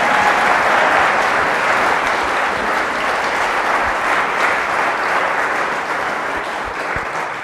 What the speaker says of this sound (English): Please give a round of applause for Catherine Austin Fitts.